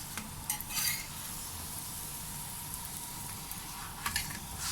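Lachha paratha cooking in a pan over a very low flame gives a faint, even sizzle throughout, with a few light scrapes and taps as it is moved around the pan.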